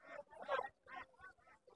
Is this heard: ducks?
yes